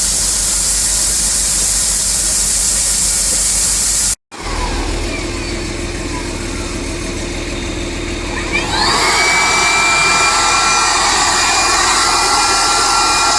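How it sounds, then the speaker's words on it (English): Grain auger running while being cleaned out after the corn harvest, a loud constant mechanical roar with a brief dropout near the middle, then a brighter whining hum as it carries on. "Cleaning the auger out for the year."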